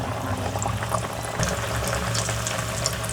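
Gulab jamun made from semolina dough frying in hot oil over a low flame, a steady bubbling sizzle throughout, even and moderately soft with no talk.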